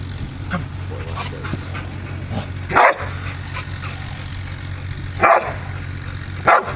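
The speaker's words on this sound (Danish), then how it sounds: "Hørte du Katjas hund?" A dog barks three times at a distance, short sharp barks spaced a few seconds apart over a steady low background hum.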